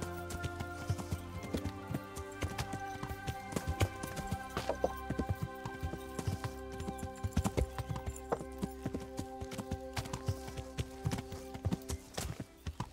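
Horse hooves in Kingdom Come: Deliverance, a steady galloping clip-clop on a forest path over droning game music, continuous and fairly close.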